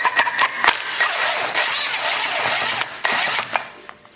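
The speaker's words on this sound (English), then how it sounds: "Now this one, you don't have to use a big impact like this, but I am" An impact driver removes T25 Torx screws from the clutch cover of a Polaris Sportsman 850 ATV, making harsh, close rattling bursts of mechanical hammering that start and stop several times with no talking.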